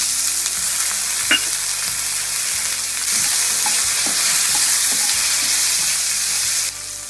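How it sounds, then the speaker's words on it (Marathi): Soaked peanuts and green chillies fry in hot oil with a steady, loud sizzle, and a few scrapes of stirring come through. No one speaks. "मिरची परतवून झाली की भिजवून घेतलेले थोडे शेंगदाणे घालायचे।"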